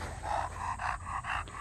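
A mini bulldog pants close by in quick rhythmic breaths, steady and moderately loud over faint background noise.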